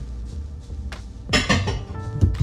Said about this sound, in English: Next lovely thing, put away the dishes